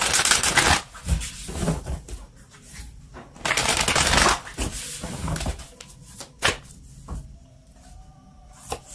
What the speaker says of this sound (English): So let's just get the final oracle card here for you.